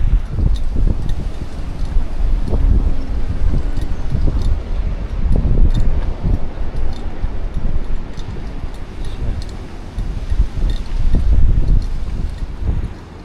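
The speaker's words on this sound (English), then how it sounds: "Again, it's a somewhat blustery day, so the weather's not nice." Blustery winter wind at an old manor barn in a seaside town, a steady loud rush with gusts buffeting close to the microphone, no talking.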